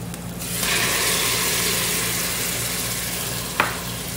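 Browned onions frying as tomatoes are added to the pan for Eid dishes: a sudden rush of loud, steady sizzling swells after a moment and holds, with a brief utensil knock near the end.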